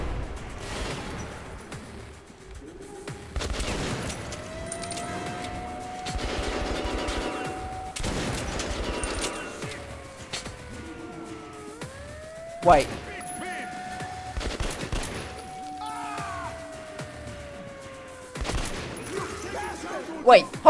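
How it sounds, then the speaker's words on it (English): Shotgun blasts in the first-person shooter Metro: Last Light Redux, several sharp bursts spread through the clip among game music and tones, with a few louder isolated shots near the middle and end. "Did I just shoot him in the head with a shotgun?"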